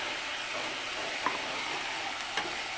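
Onion, garlic, ginger and chili paste with turmeric fries in oil for mutton curry, making a continuous dense sizzle with two faint spoon scrapes against the pan and no voices.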